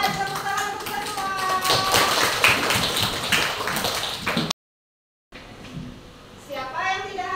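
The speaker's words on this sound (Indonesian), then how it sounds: "tepuk tangan untuk kita semua." A classroom breaks into steady applause, dense continuous clapping from many hands for several seconds, a brief silent gap, then quieter clapping and voices return.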